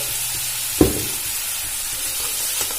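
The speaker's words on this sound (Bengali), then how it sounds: "আমি আবারও ভালো করে ভেজে নেব" Tomato paste fries in a pan with a steady, soft sizzle and hiss, broken by one brief louder stir or scrape near the start.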